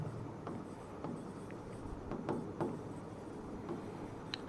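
A pen scratches softly across paper as a differential equation is written out by hand. The faint, close strokes come in short, irregular bursts over a quiet room hum.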